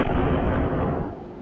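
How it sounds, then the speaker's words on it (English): Airstrike explosions hitting Tehran in a news report, heard as a dense, rumbling burst of blasts that stays loud for about a second and then fades slightly. "Israel launched a barrage of airstrikes on Tehran"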